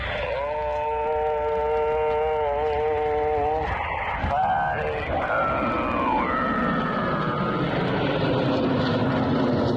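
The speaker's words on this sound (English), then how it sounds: "F-18 Super Hornets." Blue Angels F-18 Super Hornet jets fly overhead with a loud, steady roar and whining engine tones that shift in pitch as they pass, filling the scene from start to finish.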